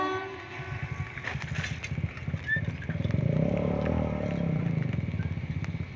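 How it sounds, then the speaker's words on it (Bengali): Parcel van train rushing through New Cooch Behar railway station without stopping, a rhythmic clatter of wheels over rail joints swelling as it passes close, with faint higher squeals above. "ফ্রেন্ডস এখন একটা ট্রেন আসছে খুব দ্রুত গতিতে নিউ কুচবিহার রেল স্টেশনে, কিন্তু থামবে না।"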